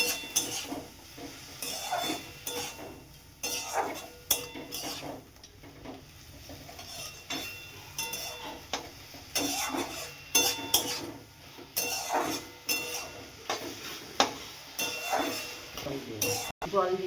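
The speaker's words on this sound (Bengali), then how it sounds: "আর একটু কষবো।" Shrimp and banana-stem curry being stirred and sautéed in a pan, a metal spoon scraping and clinking irregularly against the pan over a soft sizzle, with occasional speech in between.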